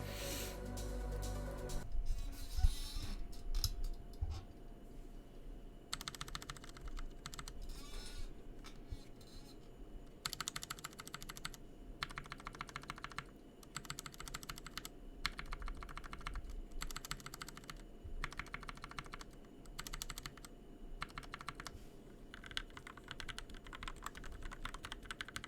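Mechanical keyboard keys, some lubed and some unlubed, clack in steady bursts of typing, close and fairly quiet, alone after a brief noise at the start.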